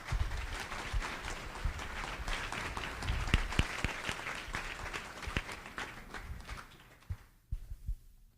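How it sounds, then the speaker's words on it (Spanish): Sustained audience applause from a crowd at a live comedy show in San Salvador, dense and steady for several seconds before thinning to a few scattered claps as it fades out. "les pido un aplauso para ellos"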